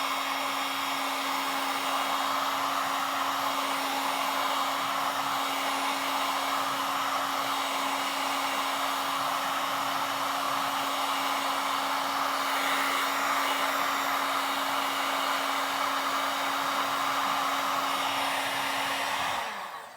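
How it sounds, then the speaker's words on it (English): A heat gun blows a steady, loud stream of hot air onto a soft plastic fishing bait to reshape it, with a constant whooshing roar and a fixed hum running throughout until it shuts off at the end. "I'm going to turn my heat gun on"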